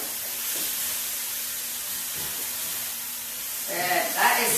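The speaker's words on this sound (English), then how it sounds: "That cast iron skillet's come back up to a nice hot temperature, and it's searing the chicken actually really nicely." Chicken sears in a hot cast iron skillet with a steady close hiss and sizzle, swelling into louder crackling bursts near the end.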